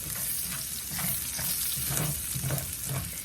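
Bacon fries in a skillet with a steady, dense sizzle and crackle, close and continuous throughout.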